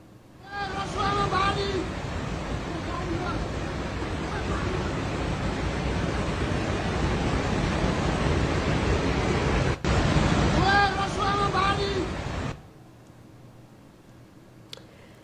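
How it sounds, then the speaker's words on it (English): Flash floodwaters in Nepal rush past in a broad, loud roaring wash, steady for about twelve seconds with brief faint voices near the start and middle before cutting to near quiet. "Let's listen in to the power of the floodwaters."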